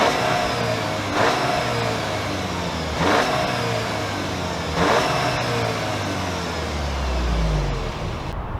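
A 2024 Audi A3 40 TFSI Quattro engine revs three times, each blip rising over a steady, loud, close idle drone, then settles into a lower rumble at the end.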